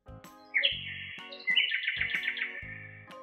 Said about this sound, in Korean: 할아버지는 고운 노랫소리에 이끌려 파랑새를 따라갔어요.